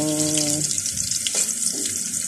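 Milkfish and tomato frying in a pan give off a steady hiss and sizzle, loud and close, with a brief tonal sound at the start.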